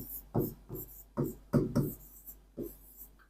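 Pen writing on paper in short scratchy bursts, about seven separate strokes spaced unevenly, close and fairly quiet against a silent background.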